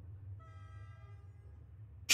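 A train horn from the video game Omori sounds once at moderate level, a steady harmonic tone held for about a second over a low rumbling background, followed by a sharp burst at the end.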